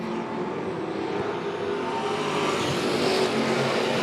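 Race cars roar at Monett Motor Speedway during heat races, a loud, sustained engine drone running nose to nose through the turns without a break.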